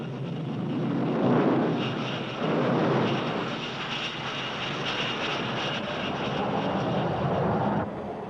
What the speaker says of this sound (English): Designed as a carrier-based interceptor for the Navy, the Phantom proved to be an aircraft of extraordinary capability.